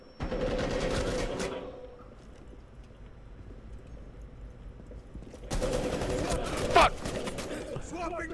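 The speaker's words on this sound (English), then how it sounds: "I just got shot in the back." Rapid video game gunfire comes in two loud bursts of bunched shots, one at the start and one later, with a quieter stretch between them.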